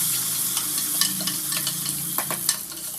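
Onions sautéing in a pan for a Tamil home cook's morning meal, a steady close sizzle with scattered stirring scrapes and spatula clicks throughout, no voices.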